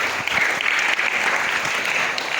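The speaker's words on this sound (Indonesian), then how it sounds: "Dan tepuk tangan untuk kita semua yang hadir." Audience applause at an Islamic boarding school motivation and parenting seminar in Cirebon, dense and steady clapping filling the room throughout, with no pauses.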